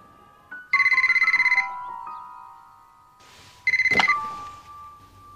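A telephone rings in two short electronic bursts, the first about a second long and the second briefer, heard in a quiet indoor scene with faint background hum and no talking.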